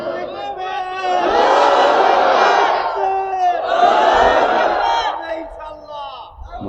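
A large crowd at an outdoor religious sermon gathering roars the takbir in two loud, drawn-out collective shouts, a leading voice calling out before each massed response, close and powerful.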